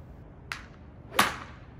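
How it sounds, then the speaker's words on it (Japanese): A golf practice swing whooshes briefly, followed by a sharp snapping swish, two quick airy bursts close by. "このように打った後にポキッと鳴ると正解です"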